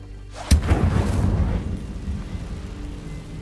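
Casting the Incendio fire spell on a cobweb in Hogwarts Legacy gives a sharp whooshing burst that swells into a roaring, rumbling flame and slowly dies away, with no talk.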